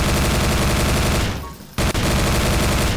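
Rapid automatic gunfire in Garry's Mod, a loud dense machine-gun stream that fades briefly, stops for a moment, then resumes at full intensity with one sharp crack at the restart.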